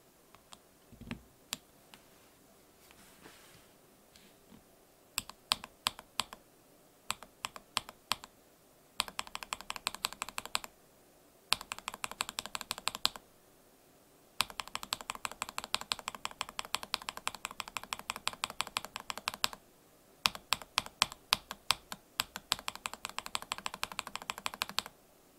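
Stock Everglide Honey Yellow switches typed on with keycaps fitted, switch films installed: bursts of crisp, fast keystroke clicks in uneven runs with short pauses, close and fairly quiet, no talking.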